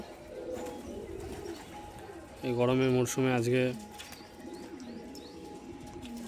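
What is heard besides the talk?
pigeons cooing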